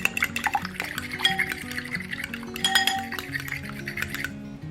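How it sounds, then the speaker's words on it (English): Three eggs are beaten in a bowl, a quick, continuous clinking and whisking of utensil against the bowl, close and fairly loud, with faint background music underneath. "To a bowl, we're gonna crack 3 eggs. We're gonna beat these."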